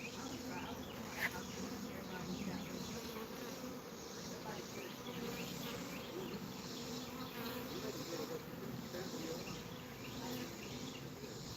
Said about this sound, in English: Same exact bees.